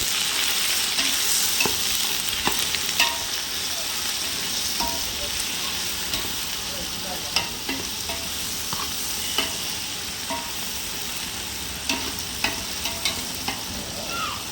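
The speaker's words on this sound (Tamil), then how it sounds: "போட்டு நம்ம நல்லா தாளிச்சிக்கலாம்." Chopped tomatoes fry in hot oil for mutton biryani, a continuous close sizzle with frequent scraping and clacking of a spoon stirring the pan, no speech.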